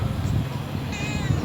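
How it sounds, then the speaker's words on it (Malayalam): A cat meows once at a house door in Riyadh, a short cry in a quiet room with low background rumble. "പൂച്ച കണ്ടോ"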